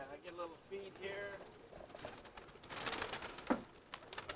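Pigeons coo in soft, low bursts near a loft as they are fed grain heavy on milo with a little millet, with a few wingbeats and small scuffs around them; no one talks.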